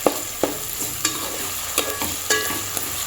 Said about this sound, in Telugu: దాని తర్వాత అల్లం వెల్లిగడ్డ వేసుకొని పచ్చివాసన పోయిందాక కలుపుకోవాలి